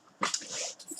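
Puppies whimpering and yipping indoors in a short burst of high, thin cries. They are close but fairly quiet.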